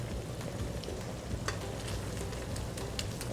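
Seasoned vegetables simmer in a pan as onion goes in, giving a soft, continuous sizzle with scattered crackles and stirring scrapes at close range and no speech.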